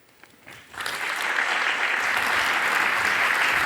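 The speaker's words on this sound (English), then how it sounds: "Another round of applause, please, if you don't mind" A conference crowd at the FYUZ 2025 main stage bursts into applause after a brief quiet start, swelling within a second into steady, full clapping that holds to the end.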